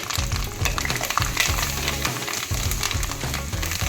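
Chili powder, curry leaves, tomato and onion fry in hot oil with a loud, steady crackling sizzle, punctuated by stirring scrapes, close and continuous with no talk.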